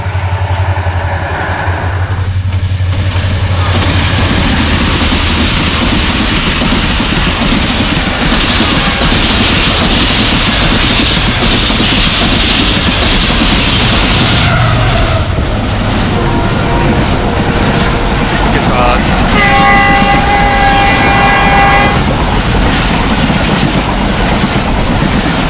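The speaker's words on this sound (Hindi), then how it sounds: "रहमान बाबा एक्सप्रेस 48 डाउन अप्रोच कर गई है" The Rehman Baba Express, a Pakistan Railways train, passes at Jhimpir, roaring loud and close with rumbling wheels and rhythmic clickety-clack over the rails, with a sharp metallic squeal near the end.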